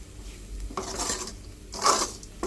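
Coconut being fried and stirred in a pan comes through as a few quick bursts of spoon scraping and clinking against metal, over a faint background hiss.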